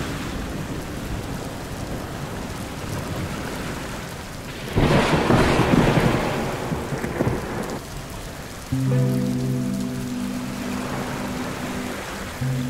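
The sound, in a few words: heavy rain with thunder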